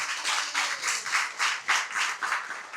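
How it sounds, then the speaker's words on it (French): An audience claps at a municipal election campaign event in Morne-à-l'Eau, a steady crowd applause with rhythmic swells, fairly close and without talk. "Sous vos applaudissements, s'il vous plaît."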